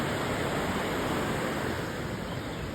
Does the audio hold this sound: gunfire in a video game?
no